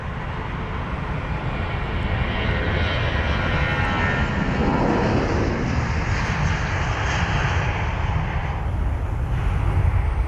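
An Airbus A320 departing London Heathrow gives a loud, steady jet roar that stays strong for the whole stretch, with no voices over it.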